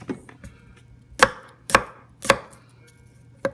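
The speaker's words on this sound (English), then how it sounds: "Again, we're just going to rough cut these," Knife rough-chopping vegetables for chicken in Marsala wine on a cutting board: a handful of sharp, separate chops spaced irregularly, close and clear over a faint low hum, with no voices.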